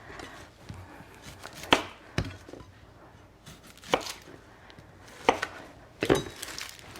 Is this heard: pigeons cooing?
no